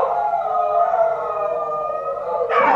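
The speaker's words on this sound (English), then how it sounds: "There are sirens outside" A wailing siren holds a drawn-out, slightly wavering tone, heard clearly and continuously, with a brief burst of noise at the end.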